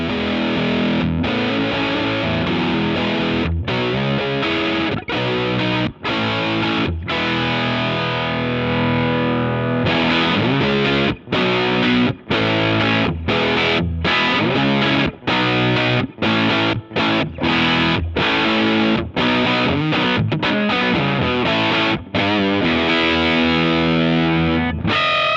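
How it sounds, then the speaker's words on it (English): A D. Kowalski Rare Earth germanium distortion guitar pedal, played on electric guitar through an amplifier, gives a thick, saturated tone with strummed chords and short riffs separated by brief stops. "the Kowalski amplifier's rare earth germanium device, and it sounds like this."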